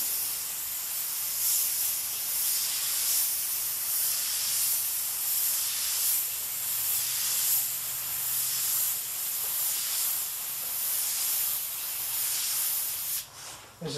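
A VEDA WD 180 airbrush sprays at about 30 psi, a steady close hiss of air with slight pulsing surges that cuts off abruptly near the end.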